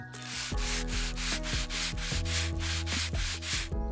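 Sanding a mold by hand to smooth small inner ridges: steady, close rasping strokes repeat in a regular back-and-forth rhythm, loud and continuous with no talking.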